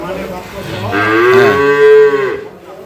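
A dairy cow at a livestock market gives one long, loud, rising moo, close and clear, fading out at the end.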